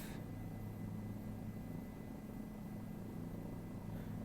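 A Bell 407 helicopter engine in Microsoft Flight Simulator 2020 drones at a steady low pitch, with a constant rotor hum and whine that holds level throughout.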